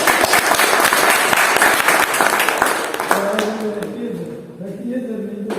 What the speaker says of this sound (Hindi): ताली भी बजना चाहिए साथ में।